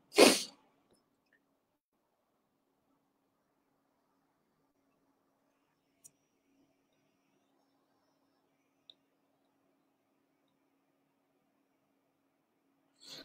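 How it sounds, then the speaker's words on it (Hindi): One sharp sneeze from a man sitting beside a computer during a PHP lecture, loud and close at the start, followed by near-silence with a faint hum and a couple of tiny clicks. "छींक मैं मार रहा हूँ, मैं सिस्टम के साइड बैठा हूँ"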